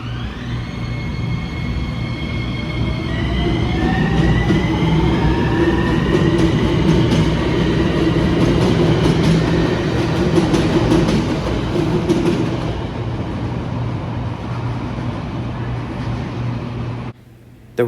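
A Miami Metro train runs past near MiamiCentral Station, its wheels clattering loudly and squealing with falling tones as it approaches, then fading steadily until it cuts off abruptly.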